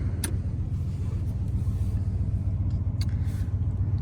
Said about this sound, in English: Good running old truck.